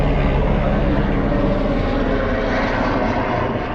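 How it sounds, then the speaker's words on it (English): A medical helicopter flies overhead outdoors near a Jaguar XK8 under repair, a loud steady rotor and engine roar that fills the clip without pause. "there's a helicopter going over. It's a medical one."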